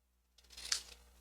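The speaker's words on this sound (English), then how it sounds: "We're going to take our scissors and we're going to follow the angle of that T." Scissors cutting cardstock along an angled line for a faux tile card, a single short crisp snip close to the mic, followed by a sharper click as the blades close.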